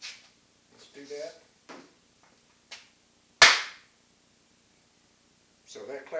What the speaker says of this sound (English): So that clap should show up in both videos